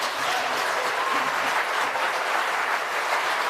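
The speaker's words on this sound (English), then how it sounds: "Please, a round of applause." Audience at an architecture awards ceremony giving a round of applause, a steady, even wash of many hands clapping that stays level from start to finish.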